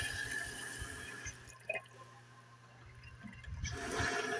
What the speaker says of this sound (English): now we're going to turn on the sink faucet while we got the high pressure water tank hooked up to it